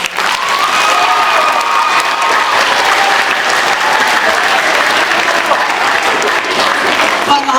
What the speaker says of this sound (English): And certainly applause for Anna for doing an amazing job, man.